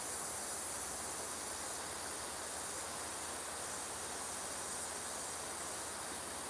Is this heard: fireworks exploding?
no